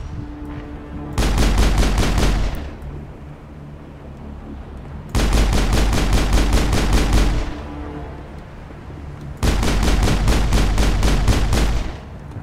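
Turret fire roars from the Mass Effect game in three long, loud bursts of rapid repeating shots, each lasting about two seconds and separated by quieter gaps of low background rumble.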